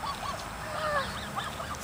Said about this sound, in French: Regarde les petits canards qui s'en viennent.